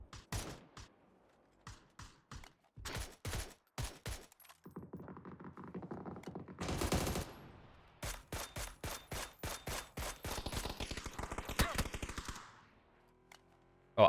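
Gunfire in a PUBG match: sharp single shots and rapid bursts from automatic weapons, tightly spaced and repeated in clusters, with a dense stretch of overlapping fire in the middle.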